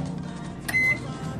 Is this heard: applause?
no